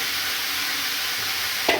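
Drumstick stems tumble into a hot pan of poppy-seed curry with potatoes, salt and turmeric, giving a steady loud broadband sizzle throughout and a brief stirring clatter near the end.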